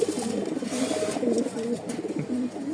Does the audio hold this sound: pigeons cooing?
yes